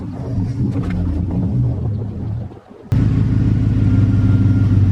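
A vehicle engine, half a quart low on oil and very dirty, turns over and catches, then settles into a loud, steady, close rumble.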